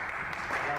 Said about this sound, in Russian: Все, аплодисменты.